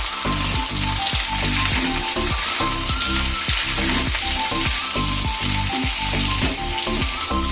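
Onion, capsicum and green chili fry in a pan for chili chicken, giving a loud, dense, continuous sizzle with a rhythmic run of spatula scrapes and knocks against the metal, close up and with no voices.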